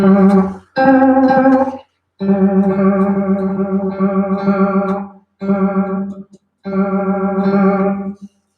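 Telray organ tone effect drenched in deep reverb, a series of sustained organ-like chords in separate bursts with brief gaps, warm and wavering with lush echoing decay, loud and close.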